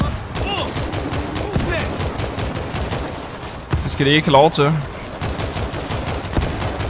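Rapid bursts of gunfire from the zombie shooter World War Z crackle through the whole stretch, mixing quick single shots with busier volleys while a player talks over the action.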